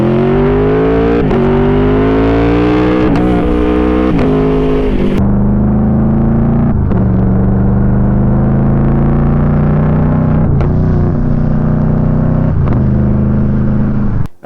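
An Aprilia Tuono V4 1100RR engine revs hard and close, climbing in pitch through the gears, with several quick drops at each upshift, some of them stuttering, then settling into a steady, loud drone.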